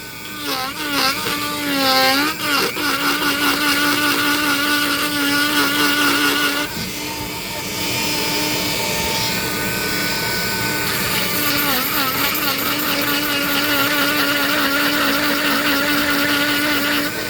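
A Dremel rotary tool carves a wood spirit face into wood, its high steady whine rising and dipping in pitch as it bites and eases off, loud and continuous throughout with no talking.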